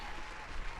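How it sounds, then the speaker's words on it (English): Brief burst of clapping, dense and steady with no gaps, fairly loud and close, sounding like a small crowd applauding. "Clap for me."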